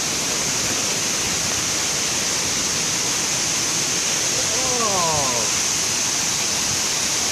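Munduk waterfall in Bali roars as a loud, steady broadband rush of falling water close by, with a brief voice exclaiming over it.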